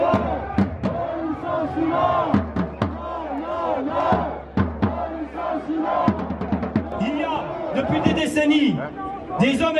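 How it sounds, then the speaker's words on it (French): Large street crowd of around ten thousand demonstrators at an Alstom factory protest in Belfort, shouting and chanting together in loud waves, with sharp cries and continuous babble throughout. "La foule affluait de partout."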